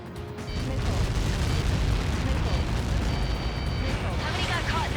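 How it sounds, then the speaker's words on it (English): A missile strike explodes in the Ace Combat 7 jet-combat video game, a dense, roaring blast and rumble that stays loud and steady for several seconds, with faint radio chatter underneath. "How many got caught in that explosion?"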